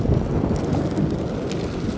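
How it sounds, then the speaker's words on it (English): Steady wind buffeting the microphone at a campsite, a low continuous rumble and rush with no pauses, close and fairly loud throughout. "It's quite windy here"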